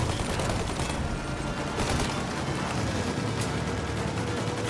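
Rapid gunfire in Mafia: Definitive Edition aimed at a plane's engines, a dense continuous barrage of overlapping shots, loud and close, with bursts standing out over the rumble.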